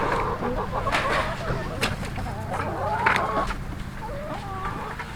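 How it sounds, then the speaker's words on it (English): Chickens cluck and murmur in a steady, busy background, with a few louder squawks rising over the flock and faint voices mixed in. "Chickens are happy."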